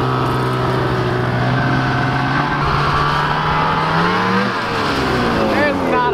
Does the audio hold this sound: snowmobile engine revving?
yes